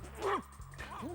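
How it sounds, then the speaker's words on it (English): A dog in a toy-filled play setting gives a couple of short, close yipping barks with a whiny edge, spaced across about a second. "oh, you bad dog!"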